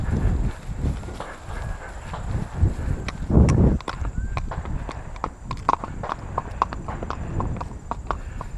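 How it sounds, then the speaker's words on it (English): Horse hooves clip-clop at a walk across a road during a ride through jumping fields, a steady rhythm of close, distinct hoof strikes with a brief voice partway through. "So just walk over the road, Linda."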